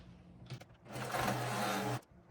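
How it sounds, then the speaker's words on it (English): A sewing machine stitching the top edge of a folded backpack panel, one steady mechanical run of about a second after a brief start, close and with no talk. "we're going to go ahead and sew the top edge"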